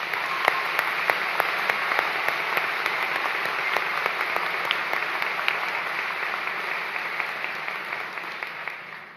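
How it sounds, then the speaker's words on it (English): Steady, dense audience applause fills a college commencement ceremony hall, many hands clapping evenly at a constant loud level for the whole stretch, slightly tapering toward the end. "Your applause, please."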